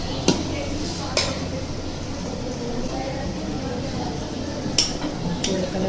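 Cooked chana pulao rice is scooped out of the pot, with a few sharp metallic clinks of a spoon on the rim over a constant low kitchen hum.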